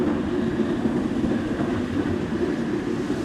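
A mini kids' train runs along its track at Rabbit Hole Park in Phuket, Thailand, giving a continuous low rolling rumble heard close, steady for a few seconds with no talk.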